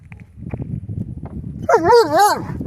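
A dog close by whines and yips, then lets out a drawn-out, wavering howl-like bark.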